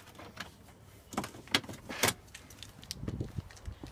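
Unlocking the boot of a BMW 320d, heard as a few quiet clicks and a jangle of keys, followed by a sharp latch click and some faint mechanical thuds, close and soft.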